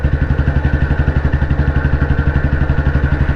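A 2009 Royal Enfield CI Bullet 350 single-cylinder motorcycle cruising in top gear, its engine thumping in a steady, even rhythm with a mechanical clatter, loud and close throughout.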